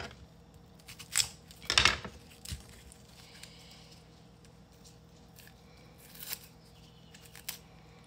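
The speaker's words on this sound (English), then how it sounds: "I'm actually gonna peel all of this because we're gonna reuse it or use the onion again with other meals" Papery skin is peeled from a small white onion, close and intimate. Crisp tearing and crackling come in a few short bursts, with one louder rip, amid soft kitchen handling sounds.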